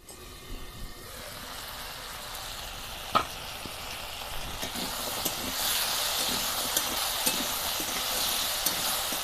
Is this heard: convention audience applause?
no